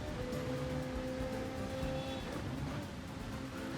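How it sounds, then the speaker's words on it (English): Ferrari 458 Italia GT3 racing at full throttle through a set of esses in a racing game, a steady, droning engine note with a few tonal harmonics, fairly quiet and without talk. "We are flat out on the throttle over this particular S's."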